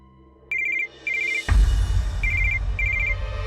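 A landline telephone rings indoors in short electronic trills, two bursts, then a pause and two more, while a low rumbling background swells in beneath the ringing.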